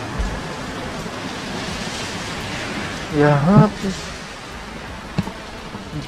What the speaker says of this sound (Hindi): आज बारिश तो बंद होने का नाम ही नहीं ले रही है